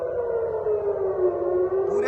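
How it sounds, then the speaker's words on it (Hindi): A loud civil defense siren sounds over Tel Aviv, one long sustained wail that sags slightly in pitch, carrying from a distance with no one speaking. "जोरदार सायरन बज रही है पूरे टेल अवीव में।"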